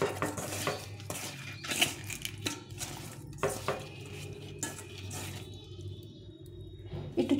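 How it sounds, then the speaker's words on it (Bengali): Fish being mixed by hand with salt, turmeric and oil in a bowl, heard as close, irregular clinks and scrapes of utensil against dish that trail off into quieter handling near the end; no speech. "আমি প্রথমে মাছটাকে ভালো করে মেখে নিতে হবে, একটু লবণ হলুদ আর একটু তেল দিয়ে নেব"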